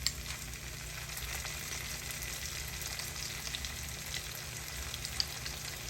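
Onions and garlic fry in a soup pot for broccoli cheddar soup, giving a steady, close sizzle that continues evenly with no talking.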